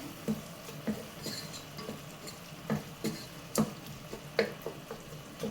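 A Kannur-style prawn rice mixture with Kashmiri chilli powder stirred in a pot, a spoon knocking against the metal in separate taps about once a second over a faint background sizzle, close by and without speech.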